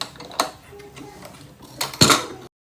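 A pressure cooker lid holding chicken mandi is opened, giving a few sharp metallic clanks and scrapes, the loudest clatter near the end before the sound stops abruptly.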